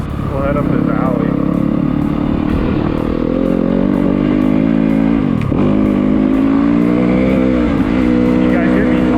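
Yamaha YZ250FX dirt bike riding up an alley, its engine loud and close with revs rising and dropping, plus wind buffeting and a voice talking over it.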